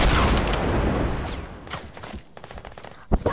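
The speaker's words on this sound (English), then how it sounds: "Stop shooting me!" Fortnite gunfire erupts in a dense rapid burst at the start, fading into scattered shots and game effects, with a sharp crack near the end.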